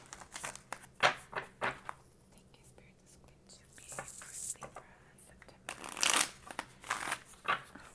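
Tarot cards shuffle in riffling, papery bursts near the microphone, interrupted by quiet stretches and soft whispering.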